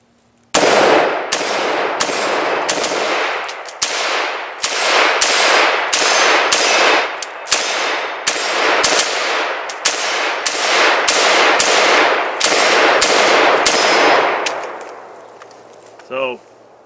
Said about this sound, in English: can see the AR fires a little bit faster. I was doing some double taps there